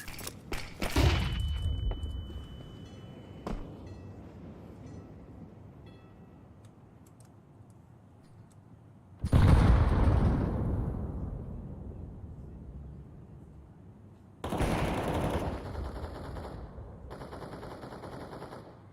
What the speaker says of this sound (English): Throwing a flashbang. I'm throwing a flashbang.